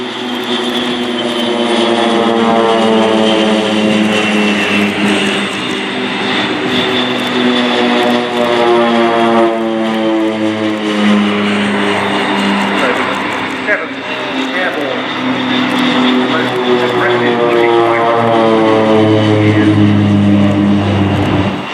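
A Swiss Air Force Pilatus PC-7 propeller trainer at an air display drones loudly and steadily, its engine tone shifting in pitch as it passes, with a continuous wash of airshow commentary over the top.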